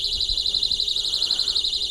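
A personal safety alarm keychain shrills steadily with a warbling high-pitched tone throughout, held close and fairly loud, with faint handling noise underneath.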